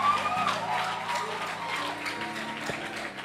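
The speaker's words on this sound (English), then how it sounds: "Please, can we clap for him?" A church congregation claps in a brief, moderate round, with some chatter and background tones mixed underneath the clapping.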